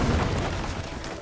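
A gunshot in the video game Assassin's Creed 3 lands as a heavy booming blast, loud and close, with a low rumbling tail that fills the whole short moment.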